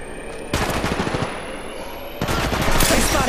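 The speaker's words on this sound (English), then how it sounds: "I'm taking shots. Opening fire." Gunfire bursts in Apex Legends Mobile: rapid automatic fire in two loud volleys, one early and a second longer burst near the end, separated by a quieter stretch of game ambience.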